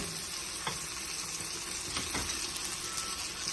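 Onion sautés in a pan with tomato paste nearby, giving a steady, soft, even sizzle with a couple of faint clicks and no voices.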